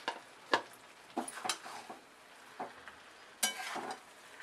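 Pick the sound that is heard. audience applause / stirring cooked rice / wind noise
stirring cooked rice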